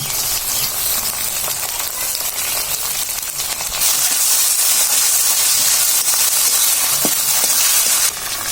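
Green chilli, ginger and garlic paste sizzling in hot frying oil while cooking a shrimp lentil dish, a loud, continuous crackling hiss that grows fuller partway through and carries on steadily.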